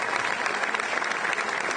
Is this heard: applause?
yes